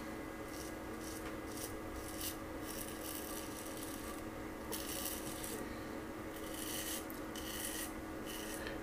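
Strokes of a 3D printed double edge razor scraping across lathered stubble, close and rhythmic, with repeated short raspy bursts and brief pauses between passes.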